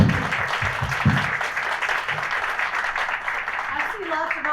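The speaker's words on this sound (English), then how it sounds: "can you just please stand and be recognized by applause if you are on a committee?" A business chamber gathering applauds its committee members, steady mid-distance clapping from a roomful of people with some nearer individual claps early on and a voice starting to speak near the end.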